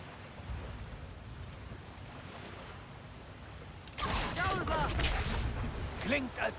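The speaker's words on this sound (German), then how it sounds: "Klingt, als sei das Wasser jetzt in Bewegung." Moving water and surging waves in the video game God of War Ragnarök, a steady wash that swells louder and brighter partway through, with wind-like noise and some game sounds layered over it.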